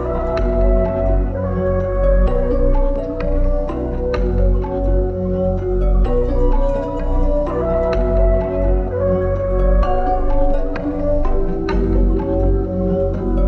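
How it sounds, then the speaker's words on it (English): A wavy synth melody programmed in FL Studio plays continuously with warbling, shifting tones and rhythmic accents over a deep low end, loud and without any voice. "it's a pretty unique wavy melody"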